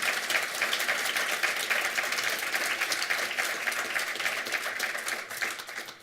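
Sustained audience applause at a London conference session on analytics, a dense steady patter of many hands clapping at even volume for the full stretch, without voices.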